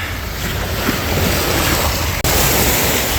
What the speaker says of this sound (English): The wind's blowing. Ocean wind.